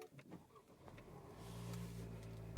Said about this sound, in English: So as I start up the car,